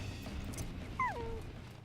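A puppy whimpers in the video game Final Fantasy XIV, one short, high, sliding whine in the middle, faint against a low steady background hum.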